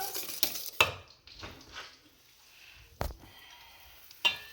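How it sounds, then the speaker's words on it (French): Pancake batter is stirred in a bowl while melted butter is added, giving soft scraping and a few sharp clinks of the utensil against the bowl, spaced irregularly and fairly quiet. "Je mets doucement en remuant, doucement."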